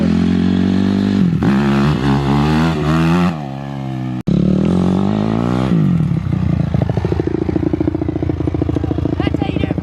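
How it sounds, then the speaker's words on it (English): A motorcycle engine revs hard and rises in pitch as the rider pulls a wheelie. It roars loud and close, drops briefly around the midpoint, then surges again into a steady strained drone. "That's how you do a fucking wheelie right there."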